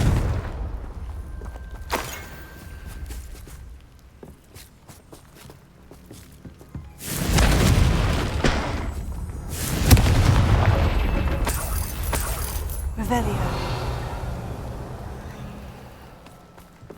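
Confringo fire spell explosions in the Hogwarts Legacy video game: two loud booming blasts with a long rumbling roar, the second starting about two seconds after the first, over quieter game ambience with footsteps.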